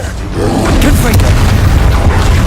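Booming Confringo blast from Hogwarts Legacy combat, deep and loud, swells after a brief lead-in and holds steady, with a voice speaking over it.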